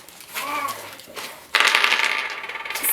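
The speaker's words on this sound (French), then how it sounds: "On lance les dés." Dice for the Pantolino board game clatter and tumble on a table, a soft first rattle followed by a louder, sharper burst of bouncing clicks, close by.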